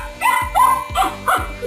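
A dog barks at its own reflection in a mirror, giving four short, loud, close yappy barks in quick succession with a whiny edge.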